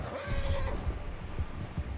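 A horse in Red Dead Redemption 2 lets out a short neigh at the start, with soft, regular hoof thuds and low game ambience continuing beneath for a couple of seconds.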